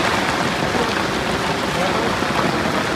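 Steady rain of the first monsoon shower hissing down on a crowded riverbank during fishing, a dense continuous wash of drops close by with no break.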